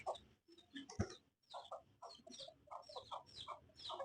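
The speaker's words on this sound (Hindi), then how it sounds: "ये रहा मुर्गी और मुर्गा।" Chickens cluck in quick, irregular bursts close by, a small flock of hens and a rooster chattering continuously with one sharp thump.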